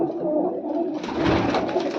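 Mixed-breed pigeons kept for sale in Bathinda coo together in low, rolling calls close at hand, joined midway by a rush of wingbeats or broadband shuffling, with no voices.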